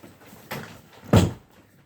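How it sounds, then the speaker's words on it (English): A door is pushed shut all the way in a home while slime is being made with school glue and salt, giving a soft thump and then a louder close, with no talk. "Close the door all the way."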